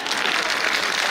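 A hall audience at a patriotic poetry event breaks into dense, sustained applause, many hands clapping together in a steady roar that fills the short moment.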